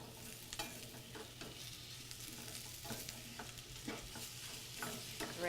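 Cubed yellow onions and carrots fry in oil while a spoon stirs them, giving a soft bed of sizzle punctuated by several scraping strokes against the pan, quiet and close, with no talking.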